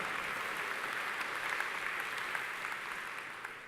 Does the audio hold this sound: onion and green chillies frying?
no